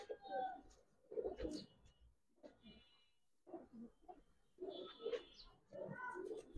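A silver pigeon coos close by in soft, throaty bursts separated by short pauses, with brief faint chirps in between.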